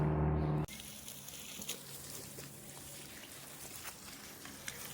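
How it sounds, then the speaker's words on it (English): Cleaned fenugreek leaves and stems in a basket are rinsed under a running tap. A steady, moderately loud stream of splashing water continues after a brief louder start, with no talking. "So I'm going to wash it nicely, the fenugreek that I've cleaned."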